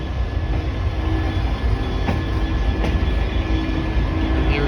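A Class 345 train bound for Heathrow Terminal 5 passes on the Great Western mainline at Acton, a steady loud broadband rumble with a couple of sharp wheel clicks, no voices.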